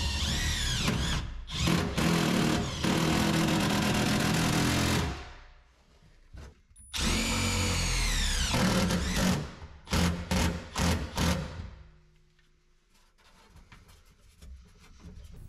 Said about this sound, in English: pop in some tech screws to pull it tight against the sides